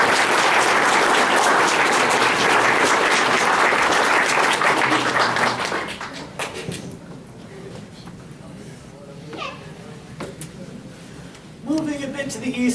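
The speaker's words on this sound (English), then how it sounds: "Big round of applause for Thor." Loud, dense crowd applause for a Thor cosplayer striking a pose at the Bangor Comic-Con 2016 cosplay contest, ringing for about six seconds before thinning out to scattered claps while voices talk.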